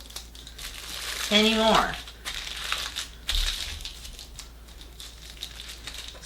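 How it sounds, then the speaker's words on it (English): Sheet of aluminum foil folded in half repeatedly and crumpled in a kitchen while roasting a chicken, giving a brief crinkling burst near the start followed by softer rustles, with a person speaking over it. "fold this aluminum foil in half and keep going until you cannot fold this aluminum foil"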